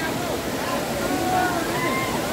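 Chingra Pagar waterfall in Gariyaband, Chhattisgarh, gives a steady, broad rushing roar of falling water, continuous and moderately loud throughout, with a crowd of visitors around it.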